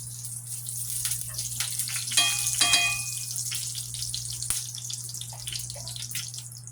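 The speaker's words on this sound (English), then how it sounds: "melt your bacon dripping first" Bacon dripping melting and starting to fry in a pan, a soft continuous sizzle and crackle with a brief brighter clatter partway through, heard close and without talk.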